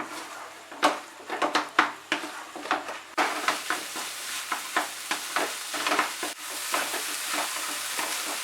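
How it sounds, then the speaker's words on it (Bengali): Egg bhurji is stirred briskly in a pan over high flame. Quick repeated scraping strokes of a spatula ride over a constant close sizzle, with a brief clatter partway through. "এবারে আঁচটাকে বাড়িয়েই আমাদের রান্নাটা করতে হবে, আর ক্রমশ কিন্তু নাড়তে হবে।"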